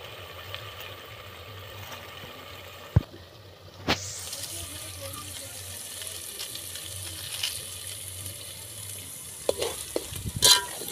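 Stone-ground masala for dry chicken hits a hot pot, bursting into a loud, steady sizzle after a sharp clank, with occasional stirring knocks and scrapes near the end, no voices.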